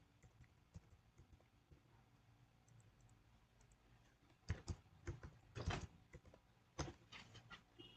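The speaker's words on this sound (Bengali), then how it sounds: "পাসওয়ার্ডের জায়গায় আমি একটা পাসওয়ার্ড জাস্ট টাইপ ইন করে যাই।" Someone types a password on a computer keyboard, with faint, quiet clicks that quicken into denser bursts of keystrokes toward the end.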